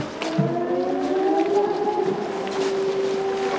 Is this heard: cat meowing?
no